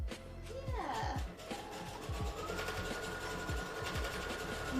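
A sewing machine stitching quilted pieces of a cosplay shirt runs in a fast, steady mechanical whir of rapid needle strokes, nearby and continuous, with speech faintly underneath.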